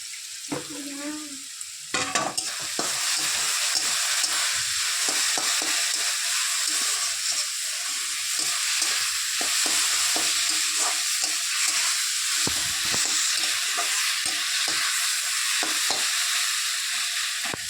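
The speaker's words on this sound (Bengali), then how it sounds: "তেলটা কম হলে একটু তেল দিয়ে নাড়াচাড়া করবেন" Food fried in oil in a frying pan, a loud continuous sizzle with frequent scraping strokes of a spoon as it is stirred, after a brief bit of handling noise at the start.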